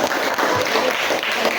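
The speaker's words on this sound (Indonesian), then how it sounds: "Ya, beri aplaus." Audience applause from a classroom group after a student team's presentation at an Indonesian school lesson, a steady broadband clatter of clapping lasting the whole moment, fairly close and continuous.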